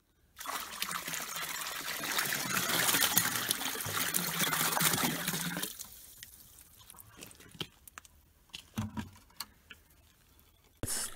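Water trickles and gushes steadily in a koi pond aquaponics setup with a bell siphon, loud and continuous for several seconds, then dropping to a faint drip with a few sharp splashes and clicks nearby.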